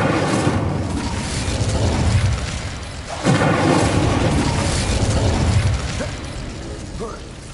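A fiery spell cast in the Hogwarts Legacy video game: a sustained, dense roaring burst of flame with a sudden renewed surge midway, loud and continuous with rumbling, crackling texture throughout.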